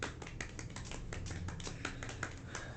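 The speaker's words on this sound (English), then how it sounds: "So let's give a golf clap to... A golf clap." Soft, polite golf clap from a small group, light scattered hand claps with uneven rhythm, fairly quiet and close, no voices over them.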